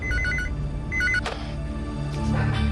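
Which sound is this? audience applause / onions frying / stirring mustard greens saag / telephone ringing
telephone ringing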